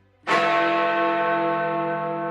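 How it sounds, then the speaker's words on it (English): Big Ben, the largest bell of the clock tower, takes a single hammer strike for the hour: a sharp metallic onset that blooms into a rich, sustained, slowly fading ring of layered tones, loud and alone. "these quarter bells are followed by the hammer strike on the largest bell,"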